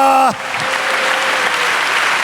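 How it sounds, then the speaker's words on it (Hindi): A church congregation at a Hindi-Urdu sermon claps loudly and continuously, a dense close burst of applause that begins right after a short spoken phrase. "पूरे जोर दे नाल ताली बजानी है।"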